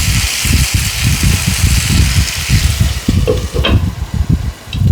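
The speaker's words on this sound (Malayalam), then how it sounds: "ഇപ്പം ഇതെല്ലാം കൂടി ഒന്ന് വഴറ്റുന്നു." Long beans sautéing in a pan for a Kerala achinga payar mezhukkupuratti, a loud, steady sizzle with scraping and stirring knocks throughout, close by.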